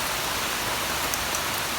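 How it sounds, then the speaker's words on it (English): Steady rain falls on a summer garden, a dense, loud, continuous hiss of drops on leaves and ground with no voices over it. "So happy for this rain."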